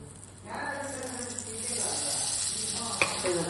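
Masala of turmeric, chicken masala powder and salt sautéing in a pan for fried quail eggs, a steady close sizzle with faint stirring scrapes and a brief clink near the end.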